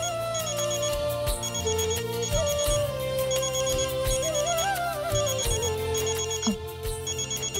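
A mobile phone ringtone plays a bright repeating melody, steady and fairly loud, over a backdrop of music.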